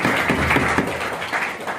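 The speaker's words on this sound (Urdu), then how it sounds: "آپ کے اساتذہ کے لیے تالیاں ہونی چاہیے" Audience applause for teachers at a business school event, a dense patter of many hands clapping steadily and fairly close throughout, with no speech over it.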